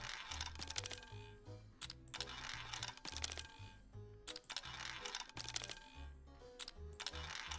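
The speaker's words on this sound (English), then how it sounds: "All this clicking." Steady clicking while playing a card game, crisp taps coming in quick irregular clusters over several seconds, fairly quiet against a faint musical background.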